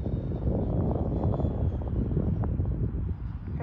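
A small 80mm ducted-fan Mirage 2000 RC model jet flies with a continuous whooshing, rushing roar that swells and fades slightly as it passes, with no talk over it.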